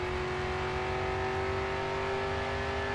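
Race car engine at full throttle in the racing video game Grid 2 holds a steady, sustained high-pitched whine at constant revs, loud and alone with no voices.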